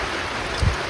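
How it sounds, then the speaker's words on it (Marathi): Heavy rain pouring down in a steady, dense wash of noise, close and unbroken, with a brief low thump partway through. "लय पाऊस वाढलाय दादा, लय पाऊस वाढला"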